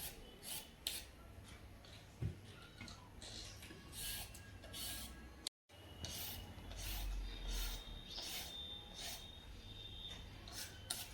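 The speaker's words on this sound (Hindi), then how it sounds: "फिर इन्हें घिसूंगी।" Peeled carrots rasped against a kitchen grater in a home kitchen, a steady scraping that runs through the whole stretch with short pauses and a few louder strokes, close by and with no talk.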